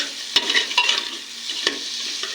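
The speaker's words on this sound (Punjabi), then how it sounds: "ਹੁਣ ਪਿਆਜ਼ ਨੂੰ ਭੁੰਨਾਂਗੇ" Chopped onions fry on medium heat in a pan, giving a steady close sizzle broken by several sharp scrapes and taps of a stirring spoon, with no talking.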